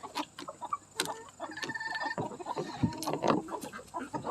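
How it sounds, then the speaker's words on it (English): Farm chickens cluck and squawk at feeding time alongside ducks, a busy scatter of short close calls and clucks over a quiet outdoor background, with occasional sharper knocks. "We're just out here feeding the chickens, feeding the ducks."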